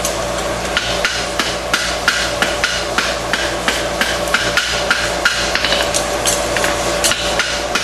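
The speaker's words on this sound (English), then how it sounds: "Then I'll take the round side of my hammer and weld the frog plate." Steady, rapid hammer blows ring against hot steel on an anvil, forge-welding a bar shoe, loud and close, continuing in an even rhythm over a low background hum.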